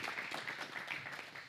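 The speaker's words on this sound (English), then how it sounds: "Can we get a round of applause?" An audience applauds as a guest is invited onto the stage at a founder talk, a dense, steady wash of clapping lasting the whole short stretch.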